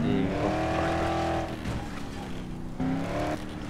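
A car driven in the zombie video game Dead Island, its engine droning steadily with a pitch dip midway and a renewed surge near the end, loud and close with no talk.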